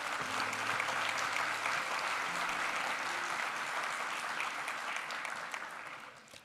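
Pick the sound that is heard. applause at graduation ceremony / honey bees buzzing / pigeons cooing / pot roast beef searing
applause at graduation ceremony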